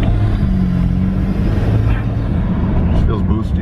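A BMW with an N54/N55 engine accelerates at partial throttle, a steady loud interior engine and road roar rising slightly as someone talks over it.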